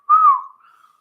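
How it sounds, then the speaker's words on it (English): A person gives one short, clear whistle on a steady pitch that fades quickly into a faint trailing tone. The whistle is close and alone, with no talking. "can you whistle?"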